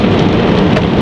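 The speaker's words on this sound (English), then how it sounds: "The rain's slowing down a bit." Heavy rain pours steadily during the Sydney floods, a dense close hiss of drops drumming on surfaces, loud and unbroken, with no voices.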